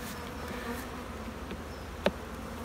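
Honey bees keep up a steady, close buzz as they are tapped off a hive frame, and one sharp tap stands out near the end.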